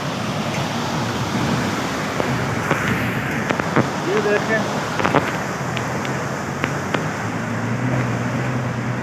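Mountain stream water pours down from a height in a glacier-fed valley, a loud steady rushing roar with wind, while someone talks over it.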